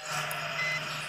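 In the Bus Simulator Indonesia video game, a bus reverses with a steady electronic beeping over a constant engine hum, with no voices.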